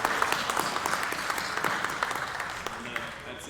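Audience at a university esports awards ceremony gives a round of applause: steady, moderately loud clapping from a modest-sized crowd, dense and even for the short span, with a faint voice beneath.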